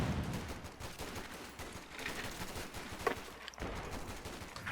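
Rapid overlapping gunfire in the Company of Heroes 2 battlefield, a steady crackle of rifle and machine-gun bursts at moderate distance, fairly quiet, with a sharper shot standing out partway through and no voices.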